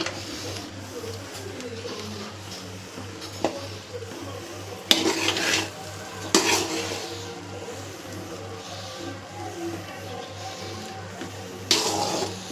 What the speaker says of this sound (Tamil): இப்போ ஊற்றி விட்டு அதை நல்லா மிக்ஸ் பண்ணிக்கலாம்.